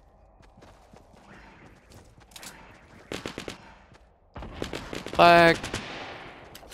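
Gunfire in the video game Fortnite, a few bursts of rapid shots mixed with game effects and a shouted voice, growing louder toward the end.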